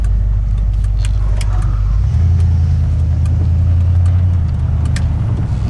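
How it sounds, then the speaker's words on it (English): Ford V8 in a junkyard Bullnose Ford, fitted with an Edelbrock AVS2 four-barrel carburetor, idling steadily with a loud, close, deep rumble that thickens slightly about two seconds in; no talking. "I don't think I've had a V8 run this good before."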